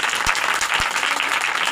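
Loud, sustained applause rises from a church congregation at a gathering in Lahore, honouring Jesus Christ with dense, continuous clapping, close and filling the whole moment.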